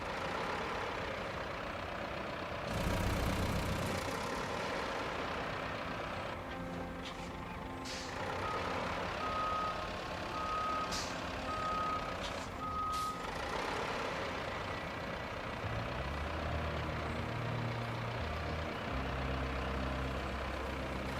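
A heavy truck in the construction game RoadCraft backs up with a steady series of evenly spaced reversing beeps over the low rumble of an idling diesel engine, with an air-brake hiss early on.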